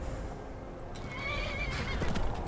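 A horse in the video game Skyrim lets out a whinny over soft hoof clip-clops, the neigh rising midway and fairly close.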